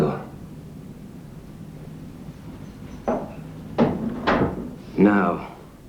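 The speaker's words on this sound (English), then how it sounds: "Close the door." A door swings shut in a 1981 Australian thriller, bumping and knocking in a few short thuds around a quiet room before a voice starts speaking at the end.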